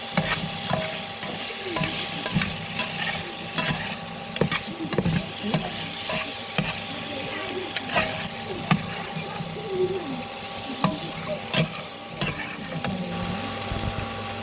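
Ghee sizzles in a hot pan, a steady frying crackle with stirring scrapes and occasional clinks, close and continuous with no talk.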